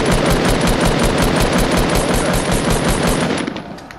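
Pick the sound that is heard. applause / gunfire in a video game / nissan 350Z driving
gunfire in a video game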